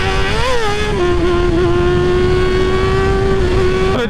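A motorcycle engine drones steadily and loudly while riding on back roads, its tone holding fairly even with a slight rise early on, heard close up without speech.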